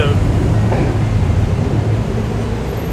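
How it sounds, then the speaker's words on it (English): A low, steady rumble of a train passing overhead in Bangkok, Thailand, loud and continuous, with a muffled voice faintly underneath. "You can hear a train above us."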